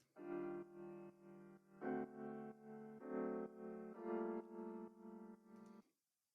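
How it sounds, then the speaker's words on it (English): Piano tone from the Sky Keys plugin's About Time preset, playing a run of about six sustained chords in steady succession, each swelling and blending into the next, alone and clear before stopping abruptly. "It's just a piano sound to fill up some frequencies"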